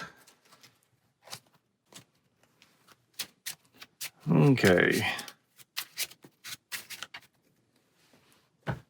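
A few cards are shuffled into a Marvel Champions deck in one brisk, close riffle lasting about a second, between scattered taps and handling noises, with someone speaking quietly.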